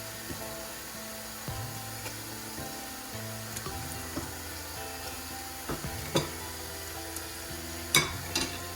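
Meat added to browned onions frying in oil for plov gives a steady, soft sizzle, broken by occasional knocks and scrapes of stirring, close by and without voices.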